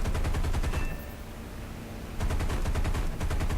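Rapid aircraft cannon and machine-gun bursts ring out in War Thunder as a Yak-9T is shot up, loud and close in two dense volleys separated by a brief lull of engine drone.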